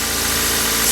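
A car engine idles steadily at close range, checked after a PCV valve replacement with the oil a little low, giving a continuous loud hum with a slight rhythmic pulse and no talking.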